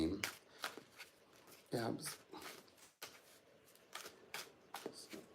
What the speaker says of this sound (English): I need to get these decks nice and shuffled so I can be ahead of the game.